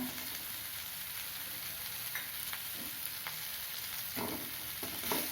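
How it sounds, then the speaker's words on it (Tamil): Bitter gourd sautéing in a pan for a Tamil kara kuzhambu, giving a steady low sizzle with light scraping stirs throughout and a few louder stirring strokes near the end, close and alone. "ஒரு அஞ்சு நிமிஷம் வதக்கணும் பாவக்காய் வதங்கிடுது"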